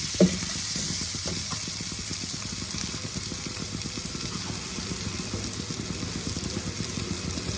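Gobindobhog rice fries with spices in a pan, a continuous close sizzle broken by the scrape and rustle of stirring, steady and moderately loud with no talk.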